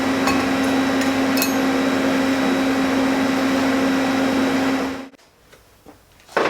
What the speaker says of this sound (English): I'm just going to weld it with a stainless steel rod.